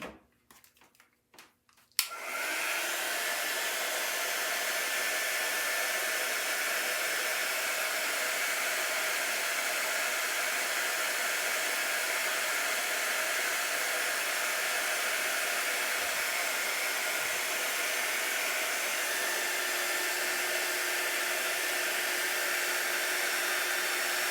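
Hair dryer drying paste on a Chalk Couture double-sided surface, switching on after a brief clatter and then blowing as a loud, steady, close whoosh with no pause.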